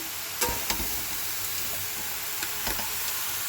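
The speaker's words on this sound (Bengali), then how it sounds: "আর এইদিকে আমার মাছটা ভাজা হচ্ছে" Fish frying in hot oil in a home kitchen, a faint steady sizzle with a few soft stirring clatters and no voices.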